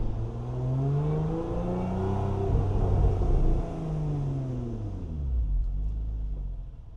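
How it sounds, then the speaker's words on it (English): Supercharged V6 of a Lotus Emira growling steadily while driving, with rising and falling revs and a faint supercharger whine over a continuous low rumble, easing off toward the end. "V6s are not traditionally the best sounding engines, but when you throw a supercharger on it, then you get some of that whine."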